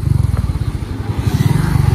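Close, throaty Yamaha MT-15 sport motorcycle engine idling in neutral with a fast, even low-pitched pulse, loud and steady throughout with no talking.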